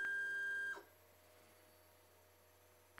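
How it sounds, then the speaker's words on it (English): A steady electronic beep from the bed leveling sensor on the print head of an Anycubic i3 Mega 3D printer, a single sustained tone cutting off abruptly, followed by quiet low hum. "raise that corner by turning the knurled nut until you can hear a beep sound, triggered by the leveling sensor on the print head"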